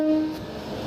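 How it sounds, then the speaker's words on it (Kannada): A town passenger train stands at Nanjangud railway station. A brief horn tone opens the clip, then fades into a low, steady rumble of the train with no talking. "ಟೌನ್ ಪ್ಯಾಸೆಂಜರ್ ಟ್ರೈನ್ ಇವತ್ತು ಯಾಕೋ ಹೆಡ್ಲೈಟ್ ಆನ್ ಮಾಡ್ಕೊಂಡೆ ನಿಂತವನೆ."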